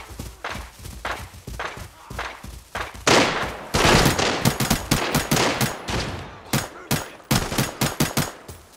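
Gunfire in the mobile shooter game Arena Breakout: irregular sharp reports, a few scattered shots early, then a fast loud volley of repeated bangs with short gaps between bursts.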